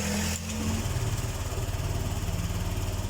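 A Honda Vario scooter engine idles steadily during an idling stop test, a continuous close rumbling putter with an even rhythmic pulse.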